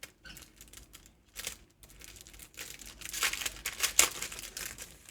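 Plastic packaging of a Temu planner sticker set being opened, with soft crinkling and rustling that builds into louder tearing and crackling near the end, close and alone with no talking.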